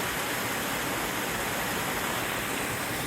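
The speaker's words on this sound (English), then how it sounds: "This is called the Zealand Falls. Not a huge waterfall, but it's awful pretty." Zealand Falls, a small waterfall on the Appalachian Trail near Zealand Mountain, sends up a steady, loud, close rush of falling water with no voices over it.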